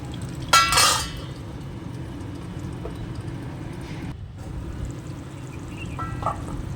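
Spicy chicken simmers in its own juices in a kadai under a steady low cooking rumble, with a loud metallic scrape of stirring near the start and faint clinks later.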